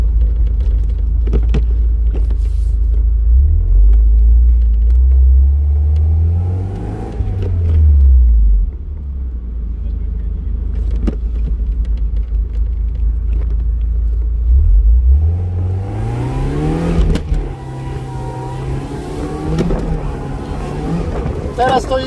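A Mercedes SLK230 R170 engine, tuned to about 230 hp, revs up and down during a drive-belt slip test, its rising and falling pitch repeated twice over a steady loud rumble, with occasional nearby talk.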